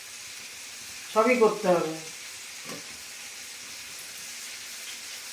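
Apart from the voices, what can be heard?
papad (poppadom) frying in a pan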